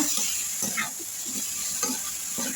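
Eggplant sizzles in hot oil in a pan for sambar while being stirred, with a steady frying hiss and soft scraping stir strokes repeating every half second or so.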